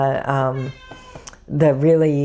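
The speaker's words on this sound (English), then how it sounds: "sorry, that's my cat." A pet cat named Stella meows loudly and close by, twice, with long drawn-out calls, while a person speaks briefly between them.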